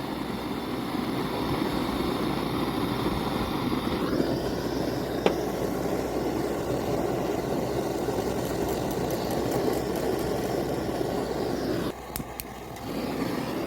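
Small Flame Licker, or Gulper, model engine running steadily up close, a continuous mid-pitched buzzing drone with a few brief clicks and a short dip near the end.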